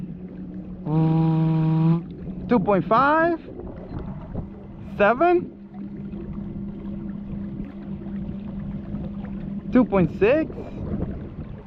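A Bixpy Jet electric motor drives a Pelican Catch PWR 100 kayak with a steady low hum, rising slightly as it speeds up, heard close under a man's repeated spoken speed readings and light wind noise.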